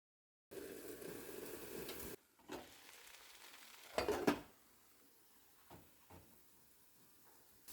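Carrot cutlets frying in a little oil in a pan give a short stretch of steady sizzling, then a few soft clinks and taps of utensils in a quiet kitchen.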